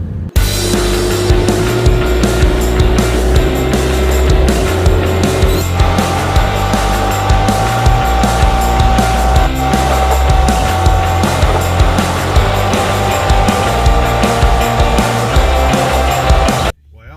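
A truck towing a car trailer drives along the road with a continuous loud rumble and road roar, a steady whining tone shifting pitch partway through, then cuts off abruptly at the end.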